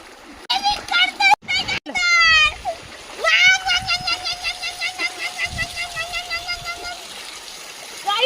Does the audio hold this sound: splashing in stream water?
yes